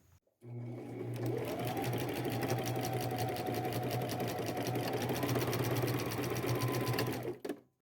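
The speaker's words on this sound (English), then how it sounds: "I am just going to go over this with a couple, maybe 3 rows of zigzag stitching" Domestic sewing machine running a steady zigzag stitch, stitching ribbon onto a velvet jacket; one continuous close, loud motor whir with rapid needle clatter lasting several seconds, then stopping.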